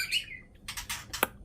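An angry male white-rumped shama (murai batu) in an aviary cage gives a short burst of harsh, squawking calls, a few close scratchy notes with a sharp peak near the end, no voices.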